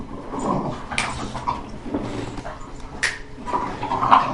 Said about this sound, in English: You may hear my dogs playing in the background.